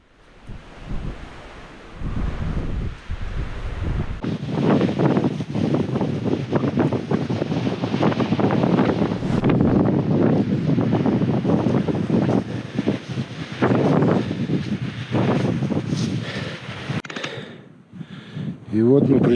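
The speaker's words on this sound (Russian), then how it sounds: "ураганный ветер просто сшибал нас с ног" Hurricane-strength gusts of over 100 km/h batter a microphone high in the Caucasus mountains, a loud, continuous roaring buffet that surges and dips before dropping away near the end, with voices faintly underneath.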